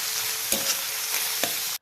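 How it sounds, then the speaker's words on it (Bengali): Onions frying in a pan for chicken kosha, stirred with a spatula: a constant close sizzle broken by a few sharp scraping strokes. "এরপর পেঁয়াজটাকে আমি ভালো করে নেড়ে নেবো।"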